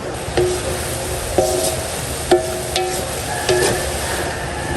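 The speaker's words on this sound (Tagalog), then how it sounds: "tayo ay nag-iihaw lang dito ng isang yellowfin" Yellowfin tuna grilling, a steady sizzle with several sharp clinks and scrapes of a utensil at roughly one-second intervals.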